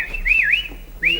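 A man whistles a short warbling phrase, rising and falling, then pauses briefly before starting another whistled note, close and clear.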